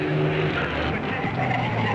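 Ferrari race car in the 1953 Mille Miglia road race, a loud, sustained engine roar with a shifting tone and some tire noise, running continuously without a break.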